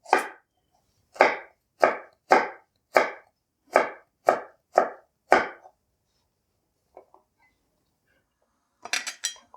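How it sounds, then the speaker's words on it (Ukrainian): Knife chopping carrots into fine julienne strips on a board for a soup-style plov, about nine sharp evenly spaced chops close up, then a pause with faint clicks and a quick cluster of cuts. "Моркву теж ріжемо трошки дрібніше, ніж на плов."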